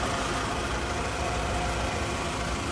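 A 2008 Toyota Vellfire 2.4 Premium idles with a steady, continuous engine hum. The sound stays even and dense throughout, with no one talking over it.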